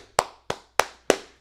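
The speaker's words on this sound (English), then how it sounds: "Clap it up." Four sharp, evenly spaced hand claps ring out close and alone, each a crisp slap with a short decay.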